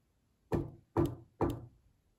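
Three evenly spaced knocks on a hard surface, close and clear against silence, recorded as a custom sound.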